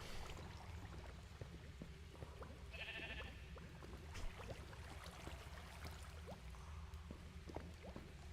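A single faint, short sheep bleat from the Minecraft video game sounds once over a quiet, low background of game ambience.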